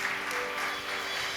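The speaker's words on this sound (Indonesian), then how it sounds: "Bapak Ibu berikan tepuk tangan untuk Pastor Arik" Applause from a church congregation during a Sunday service, a steady wash of clapping throughout, moderately loud and fairly close.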